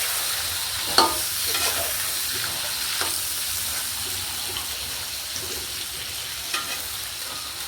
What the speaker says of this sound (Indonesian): Goreng terong. Terongnya digoreng.